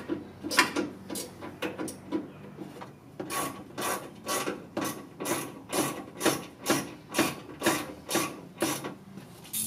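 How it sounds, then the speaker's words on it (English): Tightening the headlight mounting on a 1996 Dodge Ram produces close, rhythmic ratchet clicks in steady repeated strokes, with a few scattered scrapes and handling noises at first and no speech. "I'll get this all tightened up"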